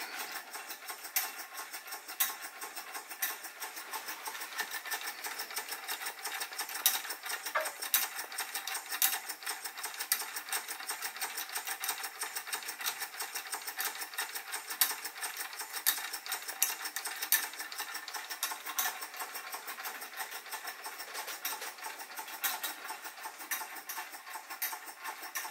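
Jensen #75 model toy steam engine driving an Eitech Ferris wheel, giving a fast, even mechanical chatter of small ticks and clicks, faint and continuous with no talking.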